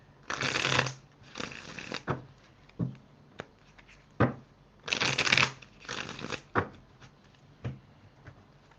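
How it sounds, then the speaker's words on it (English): A tarot card deck is shuffled by hand in close, crisp bursts of riffling, several separate shuffles broken by short pauses and soft taps as the cards are squared up. "A few more shuffles and then I'll be ready"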